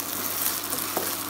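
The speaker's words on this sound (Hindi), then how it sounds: "करीब 2 मिनट के बाद इसे दोबारा सौटे करेंगे" Okra and potatoes sauté in a pan with a steady, close sizzle and light crackle, with a brief stirring scrape near the end.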